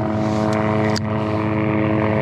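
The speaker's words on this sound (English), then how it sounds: "a small little helicopter." A small helicopter passes overhead while someone is out fishing, giving a steady, droning rotor and engine hum that holds level and fairly loud throughout, with no talking.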